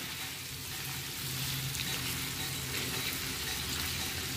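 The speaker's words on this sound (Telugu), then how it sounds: "లో ఫ్లేమ్లో పెట్టుకొని మంచిగా ఫ్రై చేసుకోవాలి" Baby potatoes fry gently in a pan on a low flame, with a soft but even sizzle and light crackle. Occasional quiet stirring breaks the steady hiss, and no one speaks.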